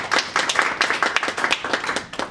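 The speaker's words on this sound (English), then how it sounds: "Can you give him a clap?" Audience clapping for a child at a school WaterAid talk, a brisk patter of many hands that stays steady and fairly close from start to finish, with no voices over it.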